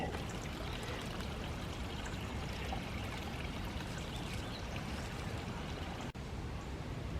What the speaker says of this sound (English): I didn't think there would be any water running down this hill.